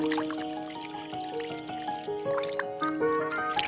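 Water poured from a vessel onto a tulsi plant, a steady trickling splash with drips over a soft melodic music background.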